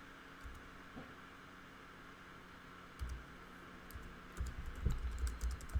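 Faint keyboard typing enters an organization name while setting up Azure DevOps, with a few scattered keystrokes followed by a denser, slightly louder run of clicks over a steady background hiss.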